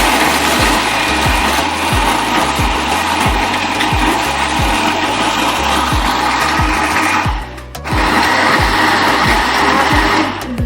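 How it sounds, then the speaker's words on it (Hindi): A kitchen blender blends mango with a lid on for homemade mango ice cream, a loud steady whirring grind with a rhythmic low pulsing that dips briefly near the end before resuming. "तब इसके ऊपर ढक्कन देके इसे भी ब्लेंडर कर लेती हूँ।"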